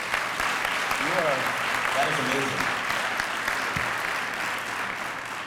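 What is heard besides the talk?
audience applause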